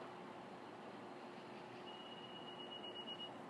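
A 2013 Acura RDX, left running with the key carried away, gives a short high electronic warning tone, a steady chime with a few faint pulses near its end, over low steady background rumble.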